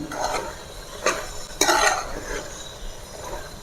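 A spoon stirs gongura chicken curry in a pot, making a few scraping, clinking strokes with soft sizzling between them. The sounds are fairly quiet and close, and nobody speaks.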